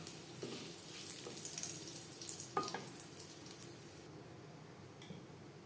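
Whole cumin seeds and a bay leaf sizzling in hot oil in a kadai for a papaya dish, giving a soft, steady crackle dotted with a few sharper pops and no voices.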